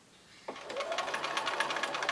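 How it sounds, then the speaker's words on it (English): A sewing machine stitching a scant quarter-inch seam with a quarter-inch foot starts abruptly and runs in a rapid, even mechanical chatter, close and clear, with no talking. "I'm sewing using a SCANT 1/4-inch seam."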